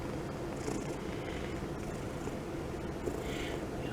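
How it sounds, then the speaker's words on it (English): A pet cat purrs up close, giving a soft, continuous rumbling drone that stays faint and steady throughout, with no talking. "Oh, I hear the kitty purring."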